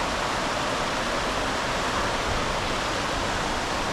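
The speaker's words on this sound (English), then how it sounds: "listen to the sound of that lovely water" Constant rushing roar of Cranny Falls waterfall in Northern Ireland, a dense even hiss of flowing water heard close and loud without a break.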